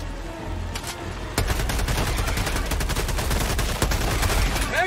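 Sustained rapid gunfire in the shooter game Helldivers 2: dense, continuous bursts of shots and impacts rolling on without a break, loud and close, with no voices over it.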